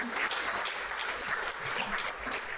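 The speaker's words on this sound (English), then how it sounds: "a round of applause for the mates" An audience at a property-versus-shares talk breaks into steady, dense applause that fills the room evenly from start to finish, with no voices on top.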